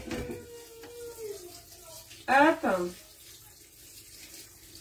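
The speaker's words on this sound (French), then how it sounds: "C'est écrit de les passer délicatement sous l'eau froide" Cold tap water splashes briefly over cooked broccoli in a home kitchen, a short close gush lasting under a second, set within a quiet room where a voice speaks a single short word.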